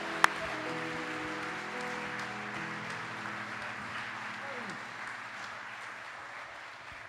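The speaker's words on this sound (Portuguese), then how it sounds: "Aplaude a Ele gostoso." A church congregation applauds in a steady, moderate wash of clapping, with sustained organ or keyboard tones and a sliding musical note underneath, plus a sharp click at the start.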